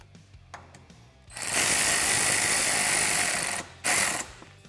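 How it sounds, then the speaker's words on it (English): Windshield bracket hardware being tightened on a Polaris RZR Pro XP cage with a power tool: a few faint clicks, then a loud, steady whirring burst of about two and a half seconds, a brief pause, and a shorter burst. "I'm going to go ahead and tighten up the hardware for my brackets that attach it to the cage of the machine"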